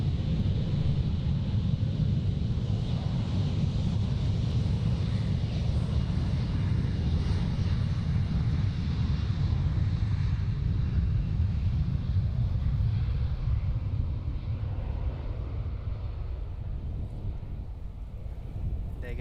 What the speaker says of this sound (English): There goes another KLM Embraer E175, and that one is going to Humberside.